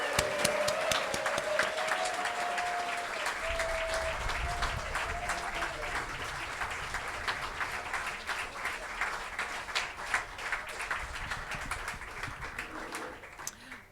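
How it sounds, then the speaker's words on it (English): A crowd applauds steadily at an International Day of Peace event for a speaker taking the microphone. Continuous, fairly distant clapping is heard with a voice briefly over it, and it fades slightly near the end. "So let's get a big, loud round of applause for Betsy Pernado"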